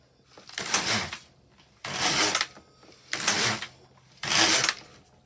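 An LK150 knitting machine carriage sweeps across four rows, each pass a bright rasping whoosh of needles and yarn lasting about a second, with short quiet pauses between, close and alone.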